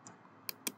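A few quiet, sharp clicks of keys being typed on a computer keyboard, spaced irregularly in near silence.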